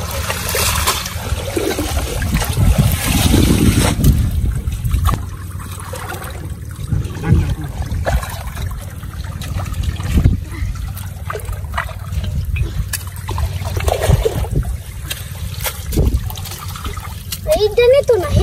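Steady splashing and trickling as weeds and grass are cleared out of the water of a village fishing pond, with people talking nearby throughout.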